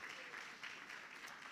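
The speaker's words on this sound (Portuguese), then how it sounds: "Então aplauda o Senhor aí." Congregation applauding the Lord during a church Bible-school service, a steady continuous patter of clapping at moderate level across the whole moment, with no clear break.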